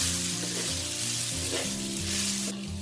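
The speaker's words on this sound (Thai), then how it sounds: "ผัดข้าวค่ะจนรู้สึกว่าข้าวเขาเริ่มเหนียวนะ แล้วผัดยากค่ะ" Rice being stir-fried in a hot pan until it turns sticky, giving a steady loud sizzle with scraping stir strokes throughout and no voices.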